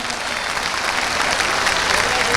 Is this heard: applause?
yes